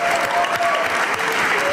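A German TV studio audience claps loudly and continuously in a dense wash of applause, with faint cheering tones mixed in, filling the whole short moment.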